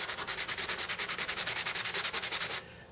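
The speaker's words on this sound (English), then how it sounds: "So we'll just start sanding" Rapid, rhythmic rasping of sandpaper rubbing back and forth on a wooden cap for a river cane vial, about ten strokes per second, close up, stopping abruptly near the end.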